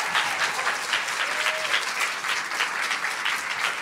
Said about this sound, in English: Can we have a round of applause for our speakers?